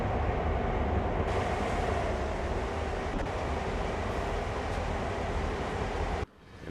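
A CSX GP38-2 diesel locomotive in Train Sim World rumbles steadily as it moves at a switching terminal, with a constant low engine drone and rail noise that cuts off abruptly near the end.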